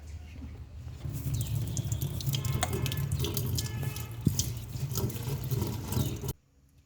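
Tap water runs steadily into a bowl as sago pearls are rinsed, a continuous close splashing rush with faint clinks, stopping abruptly near the end.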